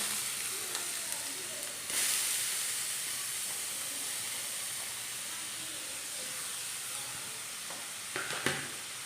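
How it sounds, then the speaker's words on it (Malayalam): Chopped onions hit hot coconut oil in a pan and sizzle steadily, a constant bright frying hiss that swells at the start and carries a few soft clinks of stirring toward the end. "അപ്പോൾ നമ്മുടെ എണ്ണ ചൂടായി ആദ്യമേ നമുക്ക് നമ്മൾ അരിഞ്ഞു വെച്ചിരിക്കുന്ന നമ്മുടെ സവോള നമുക്ക് ഇട്ട് കൊടുക്കാവേ"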